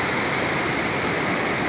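Water pours through a small bandhara dam feeding Panigaon lake, making a steady, dense rushing roar that holds even and close for the whole moment, with no voices.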